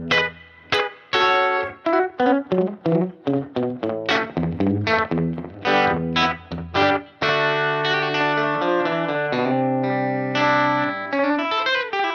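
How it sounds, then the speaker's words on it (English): Electric guitar played through an EHX Analogizer pedal with the spread knob in its upper range, giving a short slapback echo; a quick run of picked notes gives way to sustained, ringing chords, loud and alone. "spread knob in the second half of its range dials in basically a slap back echo"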